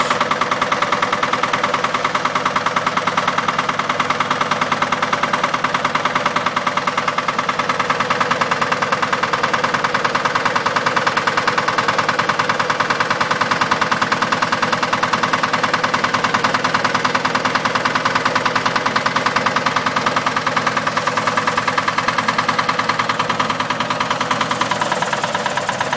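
A Newage 3-speed splash-lubricated gearbox runs in third gear, giving a steady, loud mechanical drone and whir that holds unchanged for the whole stretch, with no talk.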